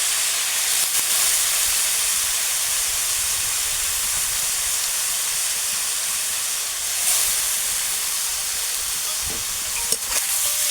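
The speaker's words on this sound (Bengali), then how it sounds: "এবারে গ্রেট করে রাখা ওলকপিটা আমি এতে দিয়ে দেবো" Grated kohlrabi, squeezed of its water, drops into a hot pan and sets off a loud, steady hiss of sizzling that holds throughout, with a few faint clinks near the end and no talk.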